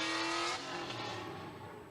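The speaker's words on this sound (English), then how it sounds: "Big car, big power coming in." A drift car at a Sebring drifting competition roars past with high revs and squealing tires, a loud, sweeping burst that fades quickly as it moves away.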